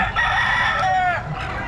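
Chickens in a crowded coop cluck and a rooster crows nearby, a loud, dense layer of fowl calls with shrill crowing sweeping through the middle.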